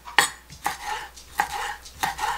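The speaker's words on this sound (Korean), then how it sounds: "한 입 크기로 드시기 좋게 이렇게 잘라줍니다." A knife chops skate (ray) into bite-size pieces on a board, five distinct sharp thuds spaced about half a second apart, close and clear, with no talking.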